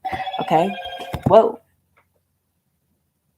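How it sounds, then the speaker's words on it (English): A phone's reminder chime sounds close by, its steady tonal ringing overlapping with a man's speech for about a second and a half before cutting off to silence. "that's my phone telling me to do French."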